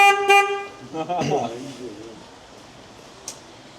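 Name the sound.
car horn honking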